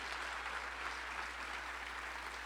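Audience applause at the 2022 Aurora State of the City Address, honoring a high school graduate: a dense, steady wash of many hands clapping, fairly faint and even throughout, over a low electrical hum.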